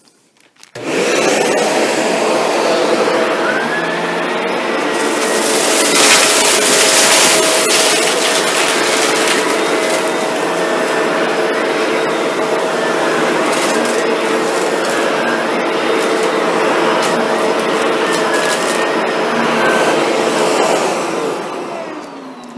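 A Shark NV752 vacuum cleaner running with its brush bar on, a loud steady motor whine and airflow roar that holds for about twenty seconds after starting, close up, with no talking.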